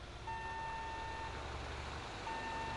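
Vehicle reversing beeps in a GTA game, a long steady electronic tone over a low engine hum, then a second beep starting near the end, moderately loud with no talk.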